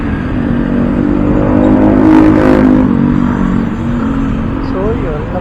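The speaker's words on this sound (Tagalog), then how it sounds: "Ay, grabe traffic." Steady road traffic with cars passing and engines droning close by, a continuous rumble swelling slightly mid-way, with people talking over it.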